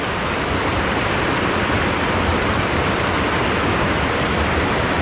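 Rain-swollen stream water rushes over a washed-out walkway on the West Highland Way in Scotland, a loud, dense, constant roar with no pauses or voices.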